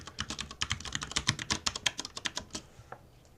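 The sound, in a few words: typing a password on a computer keyboard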